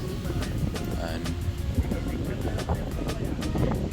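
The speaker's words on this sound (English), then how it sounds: "it's a bit windy this morning, so hopefully you're able to hear me clearly." Wind buffets the microphone on a morning walk outdoors beside a park, a loud continuous low rumble with gusty fluctuations and scattered sharp knocks, while someone talks over it.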